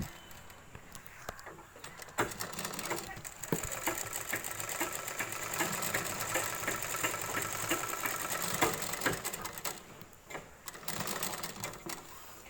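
A sewing machine stitching a petticoat runs steadily with a dense mechanical whir and rapid needle clatter, close and continuous, with brief pauses and small clicks of handling.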